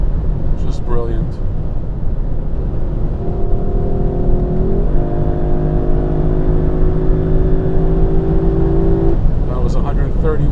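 A Lexus LC500 Convertible in Sport mode accelerates hard at high speed, its engine note climbing steadily through a long pull over constant loud wind and road roar.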